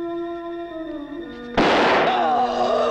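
A single sharp gunshot from a Portuguese-language film, a loud broadband burst that cuts in abruptly after a stretch of music and rings on with a noisy tail.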